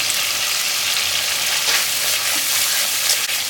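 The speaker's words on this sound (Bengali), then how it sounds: "টক দইটা দিয়ে অনবরত নাড়তে লাগবে নাহলে ছানা কেটে যাবে" Sour yogurt stirred continuously in a hot pan while making aloo dum, giving a loud, dense, unbroken sizzle with faint scraping close by.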